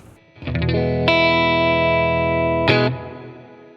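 Electric guitar played through a Strymon Flint reverb pedal. A strummed, sustained distorted chord is struck again partway through and rings out loud, then leaves a short reverb tail.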